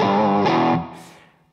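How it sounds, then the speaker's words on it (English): A crunchy, overdriven electric guitar chord from a bridge humbucker through a Kool & Elfring ACE boost pedal rings out loudly, then decays into a fading, slightly fizzy tail. "This is classic crunch."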